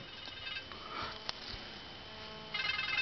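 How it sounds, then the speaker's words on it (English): A faint electronic phone ringtone plays against a quiet background and grows a bit stronger toward the end. "Hang on, my phone's ringing."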